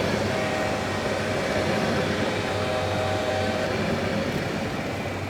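A train runs along the tracks with a constant, dense rumble and hum, loud and close, holding steady without breaks for a few seconds.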